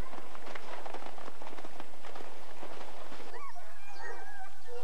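A traditional hunt's pack of about thirty hounds runs along a scent trail, a busy stretch of rustling footfalls and scattered yips, then higher whimpering and baying calls carry over the last part.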